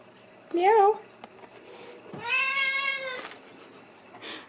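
A pet cat named Haku gives two soft meows, a short wavering one followed by a longer drawn-out cry, close by in a quiet room.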